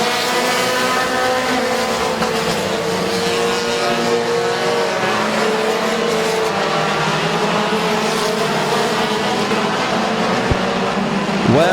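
Race cars roar around the oval at Midvale Speedway, their engines layered in a loud, continuous rising and falling drone as the pack circles close by.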